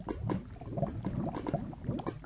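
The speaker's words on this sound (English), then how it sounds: "the sound of lava also has changed" Lava bubbling in Minecraft: soft, irregular low gurgles and pops repeat steadily over a muffled background, fairly quiet and with no voices.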